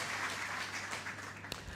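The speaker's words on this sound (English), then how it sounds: "Another round of applause for our governor, Dr. Timothy Antoine." An audience at the unveiling of a commemorative Golden Jubilee EC $50 note applauds faintly and distantly for under two seconds, with one sharp tap near the end.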